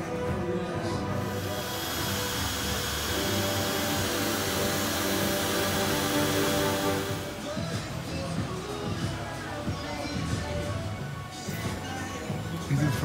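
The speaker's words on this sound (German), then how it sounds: "kann man dann hier auf den Teppich schütten und dann direkt mit dem Dyson abmachen" A Dyson vacuum cleaner runs on a carpet in a store, sucking up confetti and small stones with a loud, steady broadband whoosh that drops to a lower rumble partway through.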